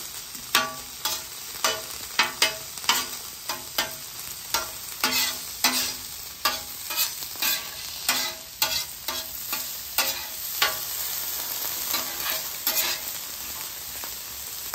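Onions and sliced meat frying in oil on a Weber Slate griddle, a steady sizzle broken by repeated sharp spatula scrapes and taps at an uneven rhythm, close and alone.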